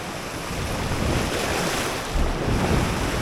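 Rough sea surf crashing on the Jamaican shore after Hurricane Beryl, a loud continuous roar of breaking waves mixed with heavy wind buffeting the microphone, with no voices.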